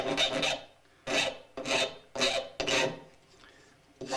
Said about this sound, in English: Dress the back side, get rid of any burrs there.